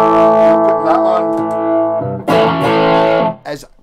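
An electric guitar plays distorted through a Marshall plexi combo amp at roughly half volume with no pedals. A loud, sustained chord rings out, a second chord is struck, and then the sound cuts off and fades.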